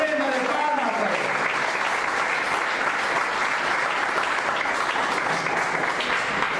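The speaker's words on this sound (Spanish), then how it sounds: "Dando ofrenda de palmas a Él" A church congregation claps steadily and loudly for several seconds, dense sustained applause from a crowd, with a voice briefly heard at the start.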